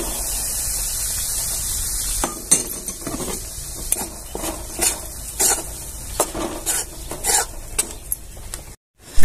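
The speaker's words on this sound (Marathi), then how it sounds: "आता आपण बेसन भाजून घेऊया।" Gram flour (besan) roasts in a pan with dry scraping stirs, repeated spatula strokes rasping and ticking against the metal over a soft hiss, ending with a short clatter.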